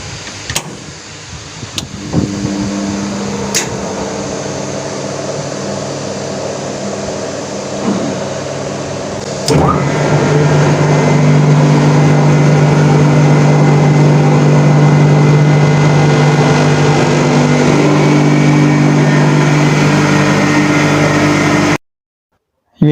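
A repaired air conditioner runs during a test, giving a steady mechanical hum with a tonal drone that grows louder partway through after a few clicks, continuous until it cuts out at the end.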